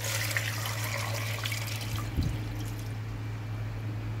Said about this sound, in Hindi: अब मैं इसमें इतना पानी शामिल करूँगी कि जिससे मेरे आलू गल जाएँ।